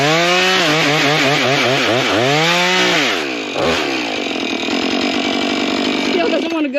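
A chainsaw cuts through a fallen tree held under wedge tension, its engine revving and bogging as the chain bites, then settling into a steady close-up cutting drone.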